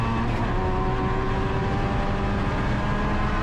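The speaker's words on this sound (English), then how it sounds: "Sheedy now blasting past that RX-7 of Stig Richards." Race cars, including a Mazda RX-7, roar past at high speed during an over-2.0-litre circuit race, a loud continuous engine blare with rising and falling tones as they pass close by.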